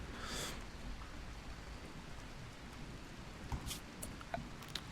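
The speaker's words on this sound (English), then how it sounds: "Oh, now it rains." Steady rain pattering down in the video game RimWorld, a continuous soft hiss of falling drops at moderate, even loudness with a few faint clicks, no voices.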